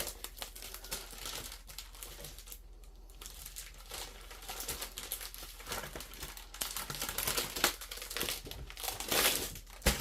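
A sheet of paper is grabbed and handled up close, giving a steady run of crinkling and rustling with sharper crumpling bursts toward the end.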